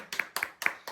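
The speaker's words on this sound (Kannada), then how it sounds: "ಇದಕ್ಕೆ ಚಪ್ಪಾಳೆ ಹೊಡಿ" A few people clapping at a family birthday celebration for a dad, four quick bursts of claps in an even rhythm, close and fairly soft, with no talking.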